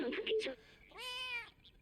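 A cat's drawn-out meow in the video game Stray, a single rising-falling cry after a burst of voiced talk, clear and close.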